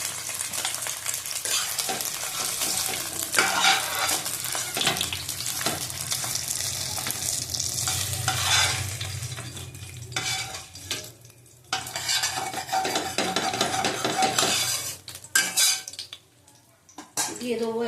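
Bhetki fish bones fry and get stirred around a pan, with a dense sizzle, repeated scraping and clinks of a utensil against metal, and a brief lull near the end.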